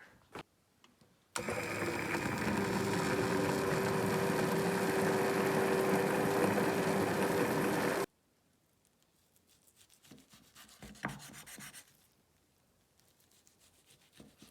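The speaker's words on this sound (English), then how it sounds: "Now it's time to immersion blend it." An immersion blender purees split pea soup in a kitchen pot, a loud, steady motorized whir that starts abruptly, runs about six and a half seconds, then cuts off to faint clatter.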